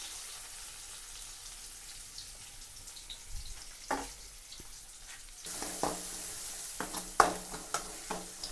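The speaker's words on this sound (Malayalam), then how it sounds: "എണ്ണ ഒഴിച്ചു കൊടുത്തു, കടുക് ഇട്ടു കേട്ടോ. ചെറിയുള്ളി ഇട്ട് കൊടുക്കുന്നുണ്ട്." Shallots and mustard seeds go into hot oil in a Kerala home kitchen, starting as a faint low hiss that jumps into a brighter sizzle, with scattered pops and crackles.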